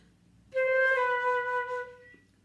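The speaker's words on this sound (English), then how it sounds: "whereas an appoggiatura would sound like this." A single sustained appoggiatura ornament note with rich harmonics, held clearly for about a second and a half before fading, played alone in a quiet room.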